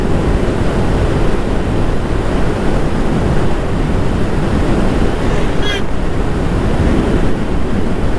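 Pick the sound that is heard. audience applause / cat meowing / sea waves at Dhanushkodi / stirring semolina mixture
sea waves at Dhanushkodi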